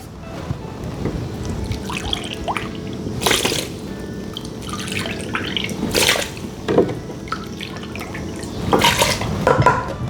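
Water pours and splashes into a pot of orange juice and brown sugar for canning carrots, with irregular trickling, dripping and clinking of pots and utensils up close, no talking.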